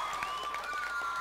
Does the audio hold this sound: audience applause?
yes